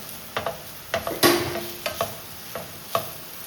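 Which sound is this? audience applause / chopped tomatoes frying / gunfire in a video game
chopped tomatoes frying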